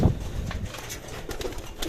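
Pigeons coo softly inside a loft, among racing birds. Low, murmuring calls sit close against steady background rustle, and no one talks.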